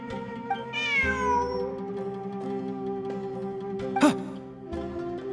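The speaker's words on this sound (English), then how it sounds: "Look! A cat!" A cat in Genshin Impact gives a clear, rising-then-falling meow over a steady tonal game background, followed by a short sharp burst and a softer sound later.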